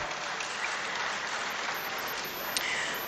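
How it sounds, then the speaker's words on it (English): Dense, steady applause from a large crowd at the outdoor inauguration of a metro light rail line, a continuous wash of clapping with no speech over it. "Let's hear a round of applause for both of them."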